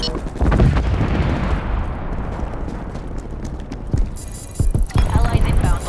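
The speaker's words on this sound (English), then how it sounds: "Hostile artillery targeting active. Net call, incoming artillery." An incoming artillery strike in Call of Duty Cold War: heavy booming blasts and rumbling impacts, loud and close, with a calmer stretch between bursts, then another cluster of explosions near the end.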